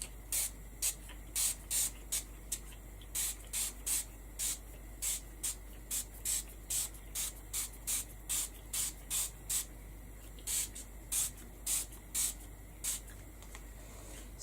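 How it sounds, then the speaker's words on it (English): A spray bottle is spritzed inside a box in a rapid run of short, crisp hissing puffs, around two per second, over a low steady hum, with no talking. "I'm going to spritz it inside my box."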